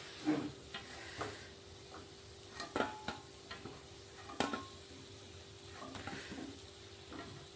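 Quiet hiss of milk-powder and flour sweets frying in oil under scattered clinks and scrapes of utensils against a pan, irregular taps spread throughout.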